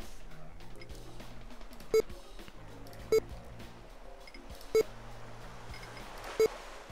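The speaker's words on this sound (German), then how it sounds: "Das Wecker piept." An alarm clock beeps in the adventure game Chaos on Deponia: four short, clear electronic beeps spaced unevenly over quiet background game music.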